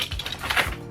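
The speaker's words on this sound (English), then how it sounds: "Now I'm going to cut my corners." Blade cutting the corners of a cardboard shipping box holding a canvas print, heard as a short run of close, dry scraping and ticking cuts with no voice.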